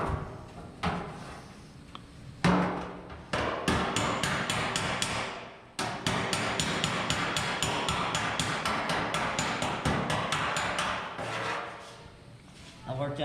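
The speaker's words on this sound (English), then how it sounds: "Straightening up a bunch of dents in it everywhere" Metal body panel of a 1966 Ford Fairlane being hammered to straighten dents, rapid loud ringing blows in quick bursts with short pauses, close by.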